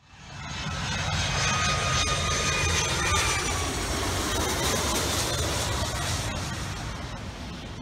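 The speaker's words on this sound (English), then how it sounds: "planes are flying over the beach" A jet airplane landing low over Maho Beach, St Maarten, roars loudly overhead, its engine noise swelling quickly and holding steady before slowly fading.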